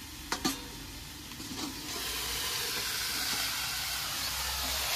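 A metal lid is lifted off a pot of bottle gourd cooking with small fish, with two quick clinks, and then a steady loud sizzle and steam hiss rises and continues.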